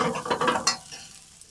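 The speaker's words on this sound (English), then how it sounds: "We're going to add a little bit of red onion and let that saute for a few seconds first." Red onion hits hot olive oil in a pan for fish tacos. A brief burst of crackling sizzle and stirring sounds close up, then quickly fades to a low hiss.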